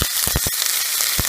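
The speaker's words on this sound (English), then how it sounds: "Then I'm going to add finely chopped onion." Finely chopped onion dropped into hot oil with cinnamon stick, cloves, cumin seeds, fennel seeds and bay leaves, giving a close, busy sizzle with a few sharp crackling bursts.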